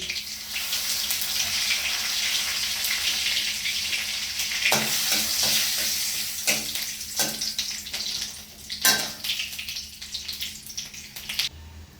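Panch phoron spices and two bay leaves hit hot mustard oil in a kadai, giving a loud, continuous crackling sizzle up close, with a few sharper spatters and utensil taps.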